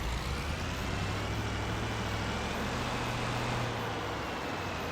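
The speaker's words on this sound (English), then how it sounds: "I just really like this pickup truck." Steady, loud low engine drone of a pickup truck in Farming Simulator 25, holding an even rumble from start to finish with no talking over it.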